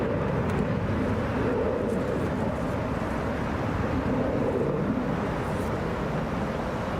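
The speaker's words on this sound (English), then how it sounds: "Wheels are up on that Airbus A321" A Delta Airlines Airbus A321, Flight 461 to Phoenix, takes off from Hartsfield-Jackson Atlanta International Airport. A loud, constant low jet roar with heavy rumble fills the whole stretch, steady and close, with no voices.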